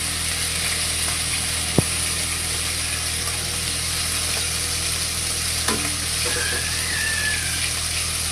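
Food fries in a pan with a steady, close sizzle while being stirred during lunch cooking, with a couple of brief clinks of the utensil against the pan.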